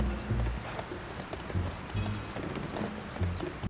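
Horse hooves clip-clopping at a gallop in Zelda: Tears of the Kingdom, a steady rhythmic drumming of close, muffled hoofbeats over an ambient game soundscape.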